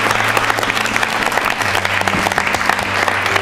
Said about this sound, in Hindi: तालियां जोरों से बजाइए आप।